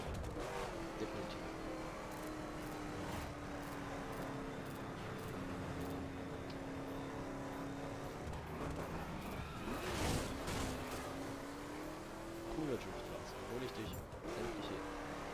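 A Dodge Viper engine in the racing game The Crew drones and revs steadily throughout, rising and falling in pitch, with someone talking over it.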